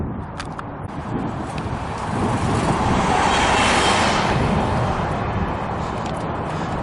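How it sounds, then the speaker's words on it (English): Bus passing on Tilikum Crossing Bridge in Portland, Oregon, a broad rushing swell of engine and tire noise that rises to a peak mid-passage and then fades. "as another bus passes"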